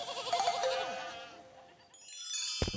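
Several plump sheep bleat close by in a cramped house, with wavering overlapping cries and faint tinkling at the end.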